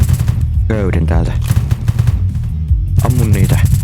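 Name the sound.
gunfire shooting in a video game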